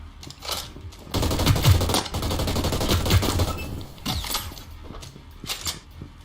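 An assault rifle fires in a Ubisoft first-person shooter, in loud, sustained automatic bursts with mechanical clatter. Brief single shots and lighter weapon handling noises come before and after the main burst.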